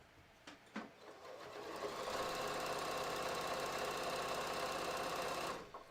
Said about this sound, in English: You can see I can sew with this thread at top speed, and it's really working nicely.